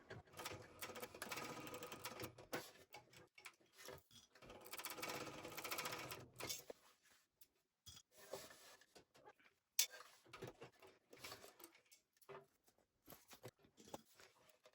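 A sewing machine fitted with a walking foot top stitches a small fabric wallet, with close bursts of rapid rhythmic ticking and clatter broken by pauses, shuffling and a few handling knocks.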